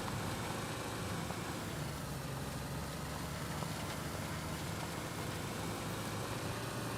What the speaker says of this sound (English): The engine was running.